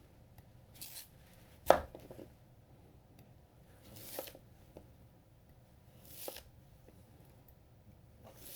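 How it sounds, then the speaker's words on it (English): Moritaka gyuto knife cutting through a dense sweet potato, a few faint, soft crunching slices and separations spaced a couple of seconds apart in a quiet room, with one sharper close snap. "There's the sound of the sweet potato separating"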